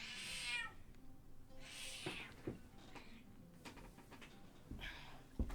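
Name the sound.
cat meowing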